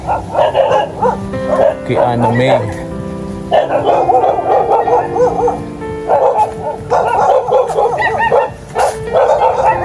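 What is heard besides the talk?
dogs barking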